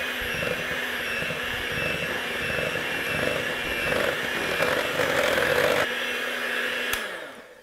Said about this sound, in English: we're just going to mix these all together